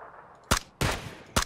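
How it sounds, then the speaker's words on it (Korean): Three loud gunshots from PUBG (Battlegrounds), closely spaced and irregular, each with a quick crack and brief decaying echo, nearby and prominent with no talking. "애니하고 75 사이 있는 쪽에서 총소리 계속 나거든요."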